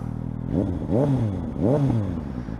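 A motorcycle with a Delkevic aftermarket exhaust blips its throttle three times, the exhaust note rising and falling in deep, throaty revs, close by.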